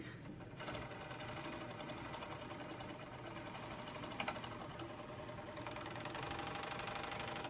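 Sewing machine stitching a trouser crotch seam, a steady fast mechanical hum and rapid needle chatter running continuously up close, with a brief knock midway and a slight rise in speed near the end, no talking.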